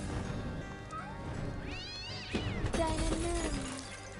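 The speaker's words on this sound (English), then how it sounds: "Kitty cat." A cat meows in the video game American McGee's Alice: a short rising-and-falling mew, then a longer wavering cry, heard close over a dense, noisy game soundscape.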